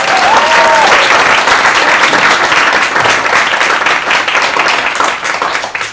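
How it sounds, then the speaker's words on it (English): Applause from an audience thanking a school's Class 3 teaching team at a parent orientation, a dense, loud, sustained clapping that fills the whole stretch and tapers slightly toward the end. "Can we give them one more round of applause?"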